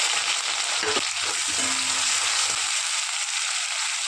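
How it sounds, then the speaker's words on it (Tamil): Onions fry in hot oil in a kadai with mustard and fennel seeds, making a loud, steady, close sizzle with a few stirring knocks early on. "வெங்காயம் வதங்கட்டும்"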